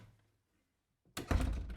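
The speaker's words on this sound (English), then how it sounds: "Sister Mary Colette shut the door behind them." A door is pulled shut with a single solid thunk after a moment of near silence, loud and close, with a short muffled rattle as it settles.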